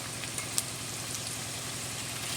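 Potato rolls frying in a little oil over low heat give a steady, soft sizzle with faint pops, continuous and fairly quiet throughout.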